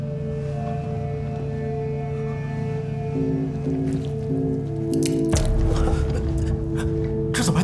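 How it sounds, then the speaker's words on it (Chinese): Water drips inside a malfunctioning base, slow wet squishy drops falling near and clear over a constant low electrical hum and steady machine tones, the background thickening later. "这怎么还滴水啊？"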